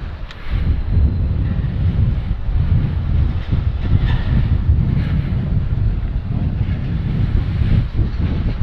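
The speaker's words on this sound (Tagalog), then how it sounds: "Hangin, oh." Wind buffets the microphone during a Honda Click 150i scooter ride, making a loud, steady, low rumbling roar that lasts the whole time with no pauses.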